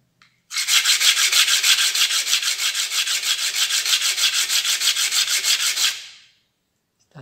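A brass ring rubbed flat on sandpaper gives a steady, loud, close scraping with rapid regular strokes for about five and a half seconds, then stops.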